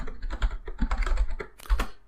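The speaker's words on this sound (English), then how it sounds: "And now we type some commands." Commands being typed on a computer keyboard, a quick irregular patter of close, crisp keystrokes with a few heavier key hits, lasting about two seconds with no talking.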